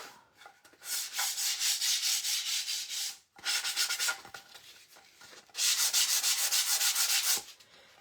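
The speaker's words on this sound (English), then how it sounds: "I have to use my little sanding sponge." Small handheld sanding sponge rubbed over a wooden shelf-sitter piece for a fall craft, giving steady close scratchy strokes in three bursts with short pauses between.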